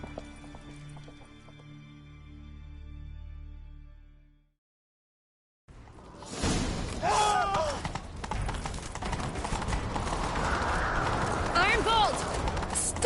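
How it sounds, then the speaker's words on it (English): Galloping horse hooves thud in a steady rhythm beneath a music score and game sound effects in The Witcher 3: Wild Hunt, after a brief pause of silence. "Grab a horse, we'll chase him down."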